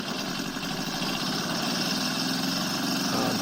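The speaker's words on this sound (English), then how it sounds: "So he's drilling" A steady, loud mechanical drone of a heavy engine-driven drill boring through road pavement, running continuously, with constant vibration and no pauses.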